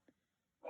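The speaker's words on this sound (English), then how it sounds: "That's our dog." A pet dog at home gives a couple of short, faint barks, a quick soft yip followed by a fuller bark, spaced apart against a quiet room.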